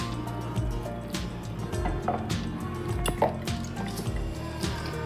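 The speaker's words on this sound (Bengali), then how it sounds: "আমি একটুখানি এখান থেকে একটুখানি জল দেব।" A little water trickles and drips into lentils in a mixing jar for dahi vada batter, soft liquid splashes over a steady low background hum, with no talking.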